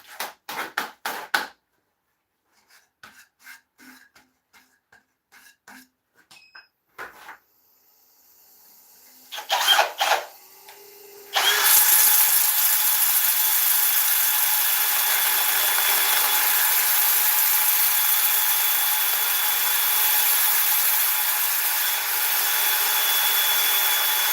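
An ash bowl is sanded on a woodturning lathe with 80 grit; after scattered knocks and taps, a steady, fairly loud whirring hiss starts midway and continues unbroken to the end.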